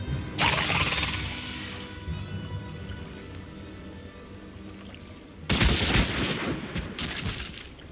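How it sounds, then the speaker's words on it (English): Sniper rifle shot in Final Fantasy XIV, a sudden loud crack near the start whose long rumbling tail fades under ambient game noise, then a second burst of gunfire-like clatter arrives later. "someone just sniped that guy"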